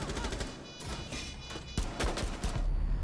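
Rapid bursts of gunfire from Rainbow Six Siege crackle in quick succession, sharp repeated shots forming short volleys at moderate loudness.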